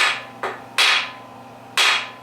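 A hammer strikes a pin driven into a broken gas tank bolt on a Harley-Davidson X90 under restoration: three sharp, close metallic blows, each ringing briefly before fading.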